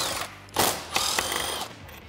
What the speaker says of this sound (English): I'm going to remove those with a 10 millimeter socket.